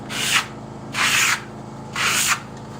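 A trowel burnishes fresh clay plaster in three slow, even rasping strokes, each a smooth scraping sweep with short pauses between, close and alone.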